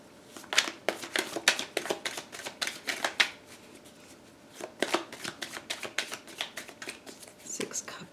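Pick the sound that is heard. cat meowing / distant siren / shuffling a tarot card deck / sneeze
shuffling a tarot card deck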